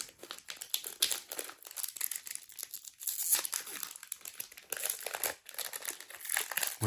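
A sealed Disney Lorcana booster pack wrapper is torn open and crinkled. The foil makes quiet, close, irregular crackles and rustles with short bursts of tearing.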